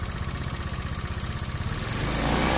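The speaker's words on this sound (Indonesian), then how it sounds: "Coba digas dikit mas." A motorcycle engine, being checked for an overcharging stator and a hot voltage regulator, idles with a steady low throb, then is blipped slightly so the tone rises and grows louder near the end.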